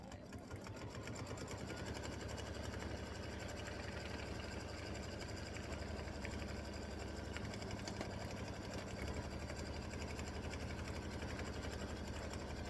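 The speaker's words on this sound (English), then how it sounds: "So this is color stop 20, stitching the satin stitching around the outside" An embroidery machine satin-stitches around an applique outline on a Valentine bear paper towel holder design, a continuous fast, even mechanical hum and chatter that holds steady throughout, close by and without voices.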